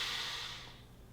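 A person lying down for a meditation exercise takes a single slow, deep breath in, a soft airy rush that fades over about a second, close and alone.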